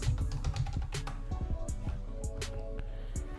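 Computer keyboard keys clatter in a fast, uneven run of close taps over a steady humming background.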